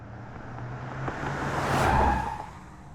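A car speeds past in a Trauma Center: New Blood animated cutscene, a swelling whoosh that builds to a peak near the end and then fades slightly, with a low engine rumble underneath.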